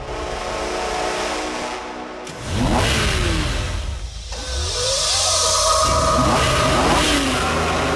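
A car engine in GTA 5 starts and revs, a loud, close roar that rises in pitch through several revving sweeps over eight seconds, with a short dip in between, and no talk.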